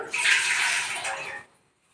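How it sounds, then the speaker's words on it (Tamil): A small vessel of water is poured into a pan on a lit stove while making star gooseberry jam, a steady splashing rush lasting just over a second before stopping abruptly. "ஒரு சொம்பு தண்ணி ஊற்றிக்கலாம்"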